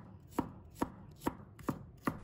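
Five steady knife chops through garlic cloves on a cutting board, evenly spaced crisp thuds, close and clear with no voices.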